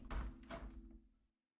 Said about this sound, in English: and unlock the door